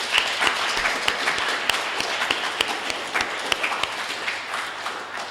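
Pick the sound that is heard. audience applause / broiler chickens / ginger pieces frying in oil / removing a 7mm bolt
audience applause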